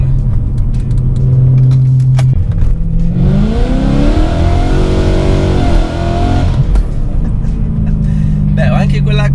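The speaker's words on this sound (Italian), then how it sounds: "Dunque, apriamo le valvole" A BMW M3 engine with its exhaust valves open revs up in one rising, snarling burst that holds for a few seconds and then falls back to idle, loud and close, with someone talking before and after.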